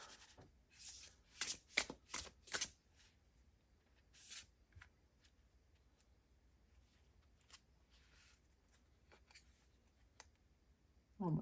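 A tarot deck is shuffled in several quick riffling bursts near the start, then handled more quietly with occasional soft flicks and rustles, close and with no talking.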